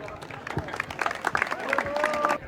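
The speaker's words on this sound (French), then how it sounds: "je voudrais qu'on applaudisse bien fort" An audience claps and cheers for athletes arriving at a Paralympic flame ceremony, a moderate burst of applause building over a couple of seconds while a voice talks over it.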